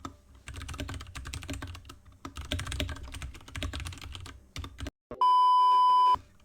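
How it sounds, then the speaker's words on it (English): Rapid, heavy keystrokes clatter close up on a mechanical keyboard for about five seconds, followed by a brief steady electronic beep. "I'm a really hard typer, so I'm just slamming the keyboards."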